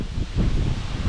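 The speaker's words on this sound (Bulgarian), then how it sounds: "Ужасно много духа." Strong wind blows past the microphone beside Tavalichevo Lake, a privately owned lake in Bulgaria, producing a loud, low rumbling buffet with rustling and gusty swells and no talk.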